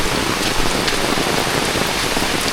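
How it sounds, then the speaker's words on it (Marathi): Rain falls steadily in the Konkan countryside near jackfruit trees, a continuous, close hiss of drops striking surfaces that stays loud and even, with no talk. "नुसता पाऊस."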